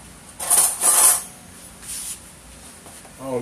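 A spoon stirs banana fritter batter made with cream in a bowl, giving a few short, bright clinks and scrapes close by, then quieter stirring.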